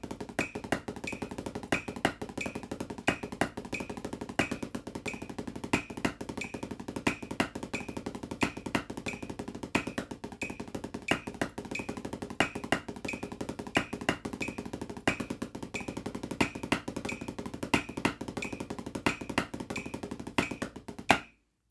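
Sticks play a double paradiddle exercise on a Prologix Blue Lightning practice pad, producing a steady, evenly spaced stream of quiet, dry taps with a faint ping on the accents, sustained without pause.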